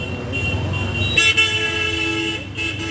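Car horns toot in short, bright blasts over a steady rumble of idling vehicles in a crowded traffic jam in Nainital, India, with the honking fairly close.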